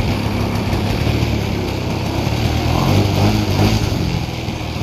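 A small outboard engine runs loud and steady in a test tank, its buzzing drone holding constant with a faint wet churn.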